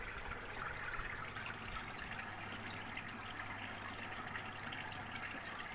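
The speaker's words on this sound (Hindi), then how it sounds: "जैसे कि आप देख सकते हैं पानी आना चालू हो गया है" Water pours steadily from the pump of an evaporative air cooler onto its cooling pads, a continuous trickling rush over a low motor hum, close and even throughout with no talking.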